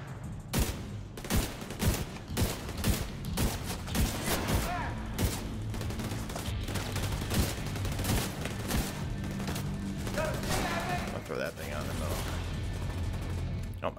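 Turret firing rapidly in The Division 2, a long run of fast sharp shots in tight bursts with heavy low thumps, loud and close, with someone talking over parts of it.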